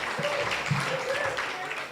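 An audience at a morning business seminar applauds a newly elected senator, a thin, steady patter of clapping with a voice briefly sounding over it.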